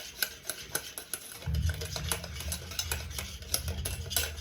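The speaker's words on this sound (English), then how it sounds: "Okay, mixed up real good." A spoon scrapes and knocks rhythmically against a bowl while mango curd ingredients are stirred, a steady close-up clatter of repeated strokes with a low hum beneath.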